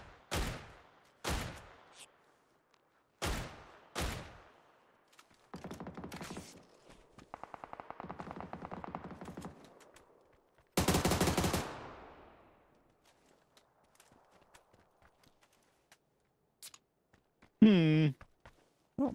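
Gunfire in the video game PUBG: several sharp single shots early, then sustained bursts of automatic fire and a loud volley, fairly close, with quieter stretches and a brief other sound near the end.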